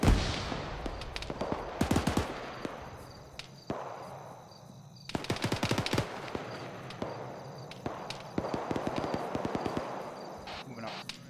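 Bursts of gunfire from rounds walked onto a marked target near a land bridge in the military game Arma 3, sharp cracks clustered in volleys of varying loudness, with radio voices talking over parts of it.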